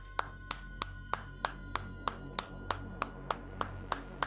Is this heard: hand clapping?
yes